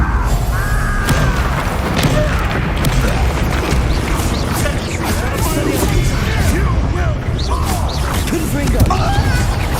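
A Descendo spell impact in the Hogwarts Legacy video game, heavy booms, thuds and crashing debris amid loud combat noise, with voices speaking over the chaos.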